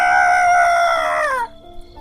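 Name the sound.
rooster crowing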